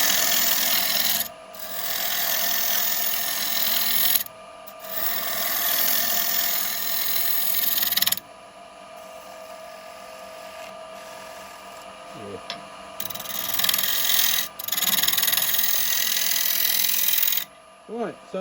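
Wooden bowl on a lathe being hollowed with a 9mm box hollower tool, producing bursts of rasping cutting noise that start and stop, with gaps of quieter lathe hum and brief talk between.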